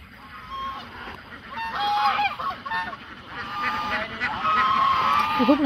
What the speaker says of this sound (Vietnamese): Nguyên bà Dịch được 4 con ngỗng. 4 con ngỗng đi giữ cho cả nhà.